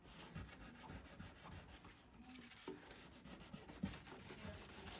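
Steady rubbing scrape of a small flexible sanding block working fine 1500-grit paper over a guitar binding joint during a loose binding repair, close and continuous with a quiet low background.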